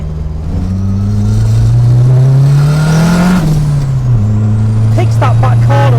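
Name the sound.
Vauxhall Viva VXR with swapped engine revving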